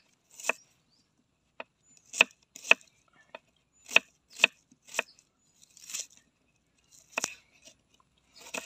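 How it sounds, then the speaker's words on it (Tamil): A knife finely chops onion on a board in short, sharp, crisp strokes, with uneven bursts and brief pauses between cuts, close and clear with no talk. "வெங்காயத்தை நைஸாக வெட்டிக்கிறோம்."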